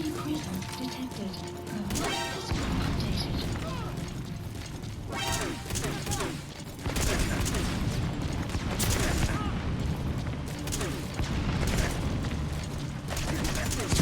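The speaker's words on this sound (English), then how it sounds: "Stop shooting me." Gunfire in Metal Gear Solid V: The Phantom Pain, scattered bursts and mechanical clatter over a dense background of game noise, with a voice talking at times.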